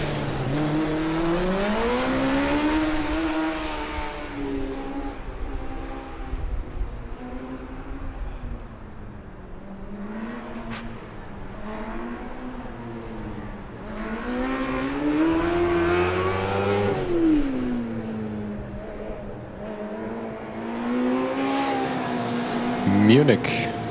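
A Formula Student race car on an autocross course drives past, its high-revving engine rising and falling in pitch through repeated accelerations, with a commentator talking throughout and crowd applause in the background.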